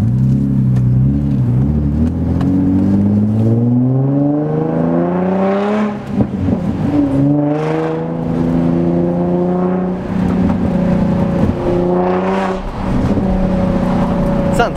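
A car engine fitted with a Y-pipe exhaust revs repeatedly, its loud, rumbling tone rising and falling in several surges under a steady, close drone.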